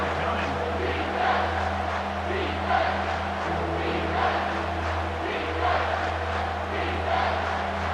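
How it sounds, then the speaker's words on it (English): A home crowd at a college football game roars as the defense tries to get off the field on third down. The sustained stadium noise swells in waves over a constant low hum. "Here comes this home crowd as the defense tries to get off the field on 3rd down"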